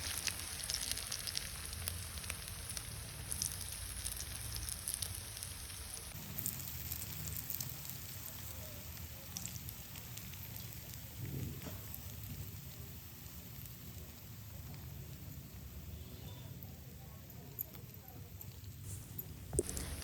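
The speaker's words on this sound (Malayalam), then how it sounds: "എണ്ണ നല്ലോണം ചൂടായി കഴിയുമ്പോൾ ഇതിലേക്ക് നമുക്ക് മാരിനേറ്റ് ചെയ്ത് വെച്ച് ബീഫിൻ്റെ പീസ് ഓരോന്നായിട്ട് ഇട്ട് കൊടുക്കാം" Marinated beef pieces sizzle steadily in hot oil in a pan, a continuous soft crackling hiss at a fairly low level throughout.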